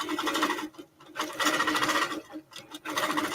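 A sewing machine stitches a quilt block in steady rapid bursts, with brief pauses between runs, close and fairly loud and without any talk.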